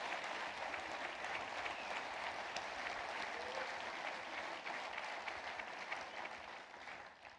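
Sustained applause rises from a Hillsdale College audience before Mike Pompeo speaks: a broad, even roar of many hands clapping that holds steady, then tapers off slightly near the end.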